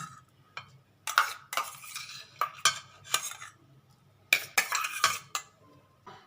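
Tomato being stirred into cabbage, beans, capsicum, coriander and chilli in a pan for veg momo filling, with a series of short scraping, clinking spoon strokes in bursts against a low steady hum.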